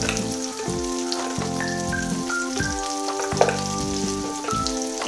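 Pointed gourd (potol) frying in oil gives a crackling, bubbling sizzle that stays close and steady throughout. A faint tonal hum runs underneath and one sharp clatter is heard midway.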